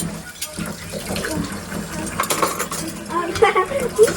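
Dishes washed by hand in a sink of warm soapy water, with a mother and her two children helping: steady clinking of cutlery and crockery, splashing and running water, close and fairly loud, with a faint voice in the background.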